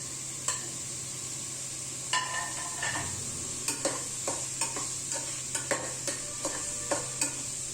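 Green chillies frying in a pan while making avalakki uppittu, a soft steady sizzle broken by repeated sharp scrapes and taps of a spoon stirring against the pan.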